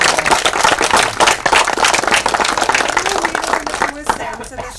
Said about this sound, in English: Can we please clap for Vishak?